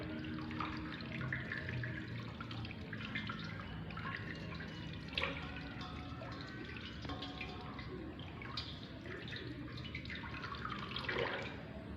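Tap water running steadily over hands being rinsed at a sink, a continuous close splashing flow with small drips and splatters throughout, no voices.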